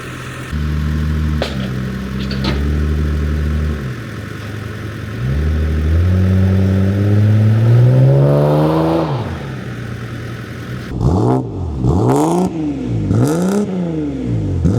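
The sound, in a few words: supercharged car engine idling and revving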